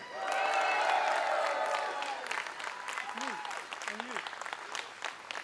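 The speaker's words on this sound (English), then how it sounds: "let's give a massive round of applause for the non-Muslims here today." Large outdoor crowd applauding and cheering at an Eid celebration in Trafalgar Square, a loud swell at the start that fades into scattered clapping, with a voice heard over the tail.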